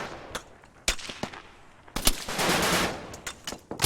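Gunfire in a military video game, with scattered sharp single shots followed by a dense burst of automatic fire, moderately loud at a medium distance and with no talking.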